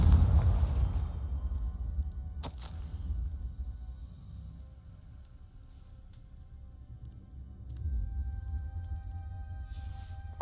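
A Confringo blasting spell in Hogwarts Legacy erupts as a heavy booming explosion, followed by a sharp crack and a long rumbling decay, with a second swell of low rumble later on.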